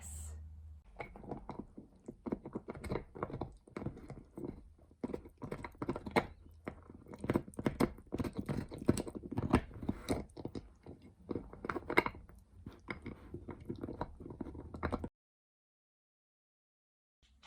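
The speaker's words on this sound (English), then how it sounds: "once Henry has finished chewing his bone" Henry the dog gnaws on a bone, close up, with steady irregular crunches and wet chewing that last about fifteen seconds before stopping abruptly.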